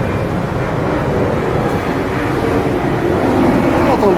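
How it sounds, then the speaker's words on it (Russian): A Swiss airline's airplane passes overhead near a small town under a busy flight path, heard as a steady, loud broadband roar that holds for the whole stretch with slight wind buffeting. "Тут же вон самолетик полетел."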